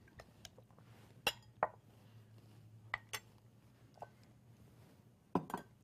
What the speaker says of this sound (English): I'm going to stir in that fruit.